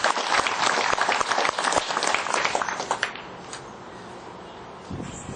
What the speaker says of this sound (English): Let's have another round of applause for all of this year's Platinum sponsors.